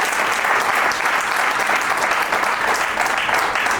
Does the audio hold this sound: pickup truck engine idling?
no